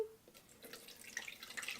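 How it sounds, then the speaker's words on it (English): Rice water pours through a small strainer into a container, with soft trickling, dripping and light splashing building up close to the microphone over a couple of seconds. "I'm now going to strain it in this little contraption here"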